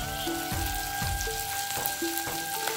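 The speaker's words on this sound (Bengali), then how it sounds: "আদাটা রসুনটা ভাজা হয়ে গেছে" Garlic and ginger paste frying in a pan, a soft continuous sizzle with faint crackles and a few light utensil taps, low in level with no voices.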